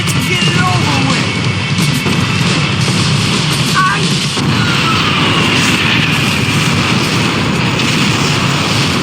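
A plane goes down in Max Payne 3 with a loud, steady aircraft engine roar and rushing wind that hold for the whole stretch, nearly unchanging in level.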